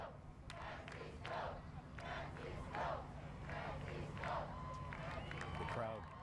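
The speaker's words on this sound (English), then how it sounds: "The crowd chanting Francisco" A large outdoor crowd greeting the Pope's arrival chants in a rhythmic, repeated pattern, roughly one call every second or so, heard from a distance at a fairly faint level.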